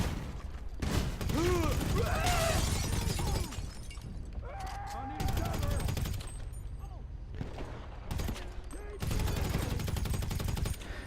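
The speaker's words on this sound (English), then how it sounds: "I'm shooting my getaway vehicle" Bursts of gunfire in GTA, loud and near, come in several clusters with breaking, shattering impacts, while people talk over the shooting.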